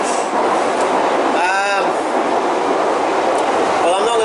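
A train runs steadily from inside the carriage, with a constant loud rumble and roar and brief squealing tones from the wheels or brakes partway through.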